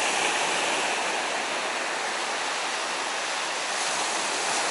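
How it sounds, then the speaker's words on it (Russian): Sea waves rolling onto the shore at a seaside promenade, a steady, dense roar of surf and spray that fills the whole stretch without a break, heard close and loud with no voices. "море выдает 12 волн, а 13-я самая сильная"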